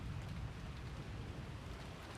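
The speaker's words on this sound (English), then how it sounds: "quietly watching the wind and rain outside" Steady rain with wind in the Umineko visual novel game, a soft, even hiss of falling rain that holds unchanged throughout with no voices.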